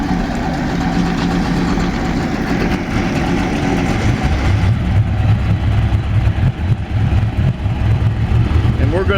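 A 2004 Mercury 60 hp outboard engine runs on a test dyno, a loud, steady, close mechanical drone that shifts in tone partway through as the revs change, with a voice talking over it.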